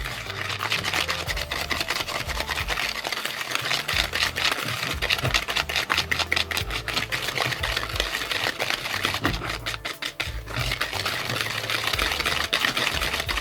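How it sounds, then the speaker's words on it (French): An electric hand mixer whirs steadily and loudly for the whole stretch in a home kitchen while a carrot cake is being made, with a busy, buzzing motor tone and no talking. "Si ça va pas, j'ai mon batteur électrique."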